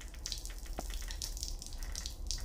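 Toilet flushing in a video game, a steady watery rush with splashy bursts and a brief drip, moderately close, no speech.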